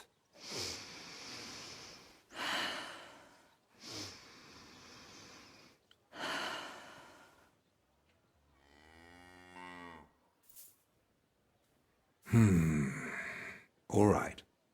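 Deep, heavy breathing of a character in Kingdom Come: Deliverance II: slow breath cycles of drawn-in air and long exhales, with groaning, snorting sounds in between, loud and close with quiet gaps.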